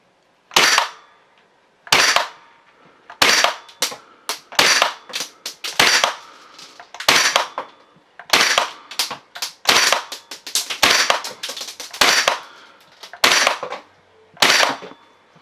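A WE SCAR MK16L gas blowback airsoft rifle fires single shots at an uneven pace, roughly two dozen sharp, loud cracks, each with a short mechanical clack of the bolt, heard close and with no talking.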